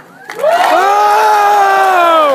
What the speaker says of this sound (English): we need to applaud them for that